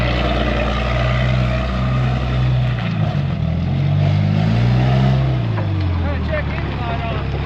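A Nissan forklift without suspension rumbles along outdoors in the cold, its engine a loud, steady low drone with rattling and jolting over rough ground, and a voice speaks over it.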